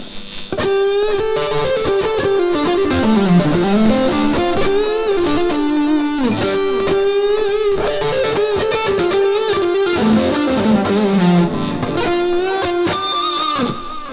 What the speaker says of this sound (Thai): ไปฟังเสียงแตกกันบ้าง